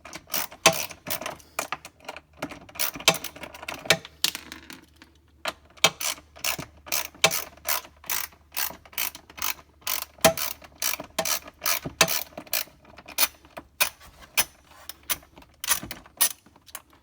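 A ratchet wrench clicks in rapid bursts while removing stow-and-go seats from a 2015 Chrysler Town and Country, sharp close ratcheting strokes repeating steadily with short pauses between runs.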